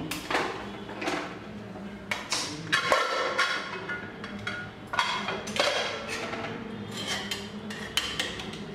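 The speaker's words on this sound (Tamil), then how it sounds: "இப்போ குக்கர் நல்லா ஆறிடுச்சு இப்போ ஓப்பன் பண்ணி பார்ப்போம்" A pressure cooker that held chicken kulambu is opened after cooling down. Close metallic clinks, taps and light clanks of the lid and pot come in irregular succession, with no talking.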